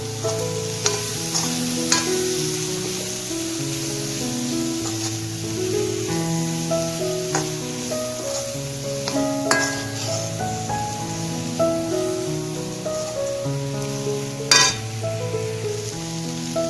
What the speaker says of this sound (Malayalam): ക്യാപ്സിക്കം ഇതുമായിട്ടൊന്ന് നന്നായിട്ട് മിക്സ് ചെയ്തെടുക്കാം.